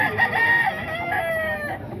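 A rooster gives one close, loud crow lasting about two seconds, with no other sound around it.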